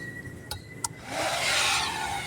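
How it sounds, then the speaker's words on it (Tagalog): An electric fan in a guard's sleeping quarters switched on: two quick clicks, then a rising broadband whoosh of moving air that settles into a steady, close blowing. "Buksan natin itong malamig nating electric fan."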